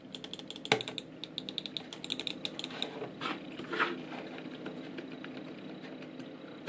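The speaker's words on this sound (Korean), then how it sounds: "이것도 마찬가지로 제가 일반 마우스랑 비교를 해볼게요." Close, crisp clicking and light ratcheting taps of Logitech silent mice (M331, M590) and a regular mouse, buttons pressed and scroll wheels turned, in irregular bursts with no voices.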